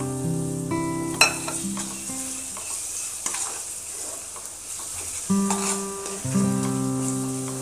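Yogurt goes into a sizzling egg curry masala, which is then stirred: a close, bright frying hiss punctuated by spoon scrapes and clinks, with a faint melodic tone in the background.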